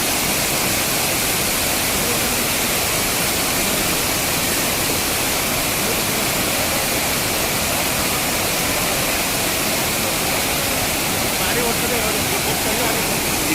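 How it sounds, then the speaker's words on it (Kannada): Benki Falls, a rainy-season waterfall, roars as a dense, unbroken wash of falling water, loud and close, with no break throughout. "ಇದು ಬೆಂಕಿಪಣ್ಣ ಫ್ರಂಟ್ ವ್ಯೂ"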